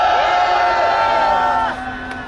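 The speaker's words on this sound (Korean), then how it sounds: "큰 함성 주십시오." A large crowd at a Korean political rally roars and cheers continuously, a dense wash of voices that stays loud throughout before easing slightly at the end.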